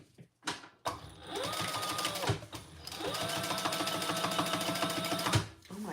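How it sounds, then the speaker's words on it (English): Sewing machine top stitching across a fabric traveler pouch, two long runs of rapid, even needle chatter close by, separated by a short pause, with soft handling noises at the start and end. "Now we're gonna fold this up and top stitch across here."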